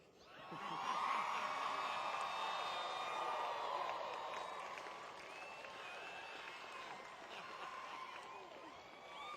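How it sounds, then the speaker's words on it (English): University commencement ceremony crowd, graduating arts and humanities bachelor's candidates cheering and applauding, a broad wash of clapping with whoops and shouts that swells early, then eases to a steady, somewhat distant roar. "Will all candidates for bachelor's degrees in the School of Arts and Humanities please rise and cheer lustily?"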